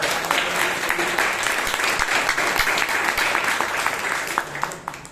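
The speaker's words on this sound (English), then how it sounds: "Please give him a big round of applause." Sustained applause from a Toastmasters meeting audience fills the whole stretch, many hands clapping together, with a few sharper individual claps and faint voices mixed in.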